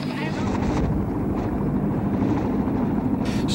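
A helicopter drones steadily nearby during the fall of Saigon in Vietnam, its low thudding rotor noise continuous throughout, with a voice faintly present beneath it.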